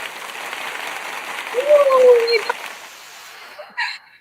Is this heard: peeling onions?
no